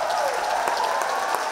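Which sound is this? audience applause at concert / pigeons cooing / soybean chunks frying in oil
audience applause at concert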